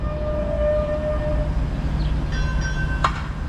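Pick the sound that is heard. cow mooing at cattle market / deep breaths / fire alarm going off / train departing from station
train departing from station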